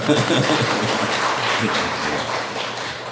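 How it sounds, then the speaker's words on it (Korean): Congregation applause at a Korean Sunday worship service, a thick continuous wash of many hands clapping at moderate volume for a few seconds, blessing a student. "우리 박수로 한번 축복합시다"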